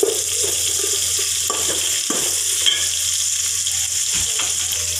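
Onions stir-fried in a frying pan for Mangalore southekayi sambar, a steady close sizzle with occasional scraping stirs and a faint clink, continuous and fairly loud with no talking.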